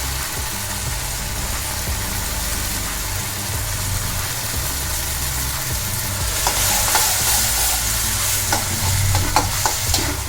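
Tomato sauce with chilli powder, paprika and ketchup is stirred in a pan, giving a steady sizzle and scraping that grows a little louder toward the end, with no talk over it.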